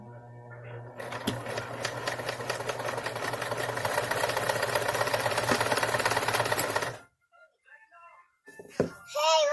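Sewing machine stitching fabric, a loud close whirring buzz running steadily for several seconds before stopping abruptly, then brief handling noises and a voice.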